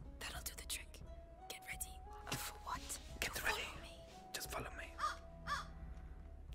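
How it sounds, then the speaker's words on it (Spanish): A crow caws repeatedly in the video game A Plague Tale: Innocence, its harsh calls standing out against quiet ambient game sound with faint whispering. "como hace el sonido del cuervo"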